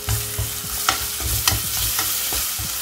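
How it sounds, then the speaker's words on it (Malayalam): Crushed ginger and garlic sautéing in hot oil in a pan for a Kerala-style chicken perattu, a steady close sizzle broken by repeated scraping stirs of a spoon, with no talking. "ഇനി ആ എണ്ണയിൽ തന്നെ നേരത്തെ ചതച്ച് വെച്ചിരിക്കുന്ന ഇഞ്ചിയും വെളുത്തുള്ളിയും നല്ലോണം ഒന്ന് വഴറ്റിയെടുക്കാം."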